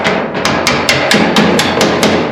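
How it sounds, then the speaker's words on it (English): Eleven quick, sharp hammer taps in a steady rhythm, close and loud, each a bright metallic knock, while setting up a Lil Kreep'r II calf feeder on a farm. "Alright, I got a hammer. Let's see if I can tap this through."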